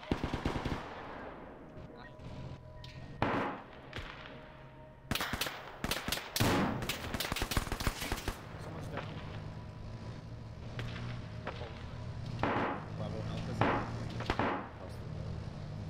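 Gunfire in a modern-day military video game on an airfield, with bursts of automatic fire and single shots cracking in clusters over a steady background rumble, loud near shots mixed with more distant ones.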